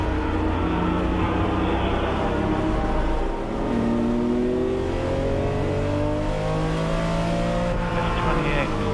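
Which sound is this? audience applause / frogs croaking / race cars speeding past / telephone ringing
race cars speeding past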